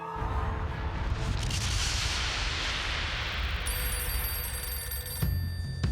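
A telephone rings loudly and continuously with a harsh, dense tone, ahead of a call that announces a player's role in the Dutch game show Wie is de Mol.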